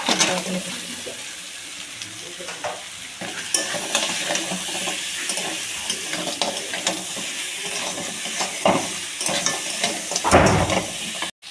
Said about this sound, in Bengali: কাঁকড়াগুলো আমার মশলা দিয়ে কষানো হয়ে গেছে বন্ধুরা।